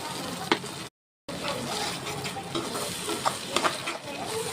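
Tomato puree with salt, turmeric, coriander and cumin powder cooks in a pan. A continuous bubbling sizzle carries scattered stirring scrapes. There is a brief dropout near the start, and then the sizzle holds steady to the end.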